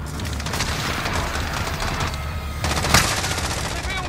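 Rapid, continuous machine-gun fire in Call of Duty: Modern Warfare, dense and loud, with one sharper burst near the end and no clear speech.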